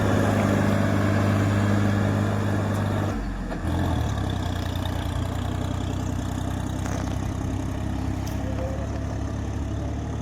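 Sonalika Tiger tractor engine running steadily at idle, a low diesel throb that shifts pitch briefly partway through, close and continuous with no talk.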